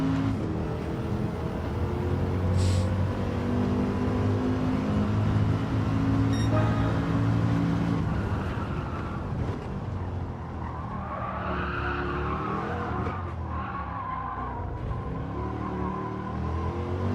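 Race car engine held at a steady, loud drone with tyre squeal and skidding in a racing game time trial, the pitch sweeping up and down through corners, no talk.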